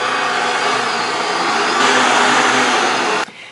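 A stand mixer with a dough hook kneads bread dough for bierrocks, giving a loud, steady motor whir that holds for about three seconds, swells slightly partway, then cuts off abruptly.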